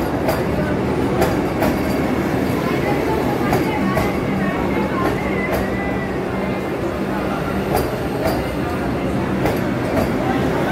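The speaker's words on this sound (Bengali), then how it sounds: "বন্দে ভারত ঢুকছে দেখো" The Bhagalpur–Howrah Vande Bharat Express pulls into platform 2, its wheels clicking in a steady rhythm over the rails beneath a continuous rumble, with faint squeals and station chatter mixed in close by.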